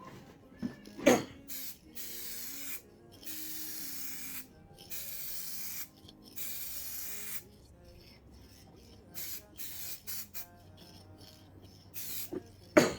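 Aerosol spray bursts as a third coat goes onto car headlights, a string of hissing blasts of one to two seconds each, separated by short silences and a few faint handling knocks, close and fairly quiet.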